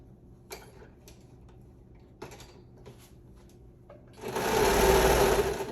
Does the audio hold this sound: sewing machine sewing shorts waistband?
yes